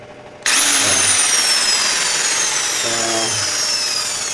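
A repaired electric drill switches on abruptly and runs at a steady high whine for several seconds, loud and close, with a slight drop in pitch toward the end.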